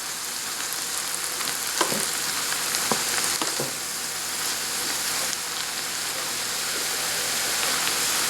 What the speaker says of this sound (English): So I'm just going to stir fry this for about 2 more minutes